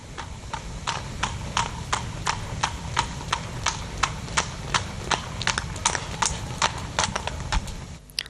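A thoroughbred cross horse trots on the lunge, its hooves striking the ground in a steady, evenly spaced rhythm of sharp clip-clop beats, close and clear over a constant low rumble of background noise.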